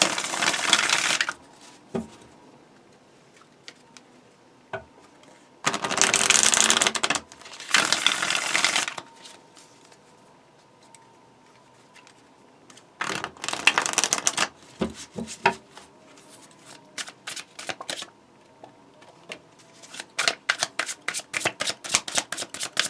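Tarot cards are shuffled close up in several separate bursts of riffling and clattering, separated by quiet pauses, ending with a run of quick rhythmic taps.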